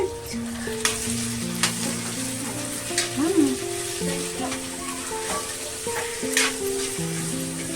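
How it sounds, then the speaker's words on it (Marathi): Onion and tomato fry in a pan for paneer bhurji, a steady close sizzle with occasional stirring scrapes, while someone talks over the cooking. "कांदा थोडा ना आपण भाजून घेऊया आता टाकूया टमाटा आपण"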